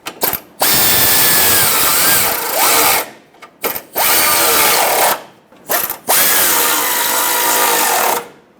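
A power drill tightens fog light mounting screws on a 2003-2009 Dodge Ram 2500, running in four loud, close bursts of a few seconds each, with brief pauses between them.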